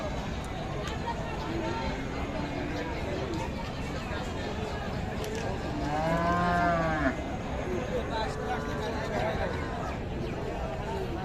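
Cattle moo at a busy Raniganj haat livestock market where bulls are sold, with one long, loud low moo standing out mid-clip above steady crowd chatter and market noise.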